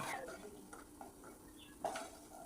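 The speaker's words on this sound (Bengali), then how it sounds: "এবারে বিউলির ডালের বড়িগুলোও ভেজে নেব। এইভাবে অনবরত নেড়ে ভেজে নিতে হবে" Lentil dumplings (bori) being fried in oil and stirred continuously in a pan, with soft sizzling and intermittent scraping and clinking of a utensil against the pan, fairly quiet and close.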